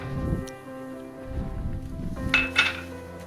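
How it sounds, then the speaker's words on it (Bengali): Spatula stirring semolina in salted boiling water in a pot over a high flame, giving close scraping and a few metal clinks against the pot in a short burst. "এই সুজি দেওয়ার পরে হাই ফ্লেমে ভালো করে ফুটিয়ে এইভাবে খুন্তি দিয়ে নাড়তে থাকবো"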